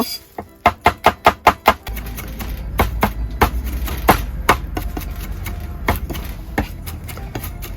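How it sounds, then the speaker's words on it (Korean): Sliced Cheongyang chili pepper minced with a knife on a cutting board for beef tartare kimbap at a winter camping setup: a fast run of sharp, loud chops, then steadier irregular knocks, close and mostly alone. "이렇게 쓰른 다음에 이렇게 다져 주시는 거예요"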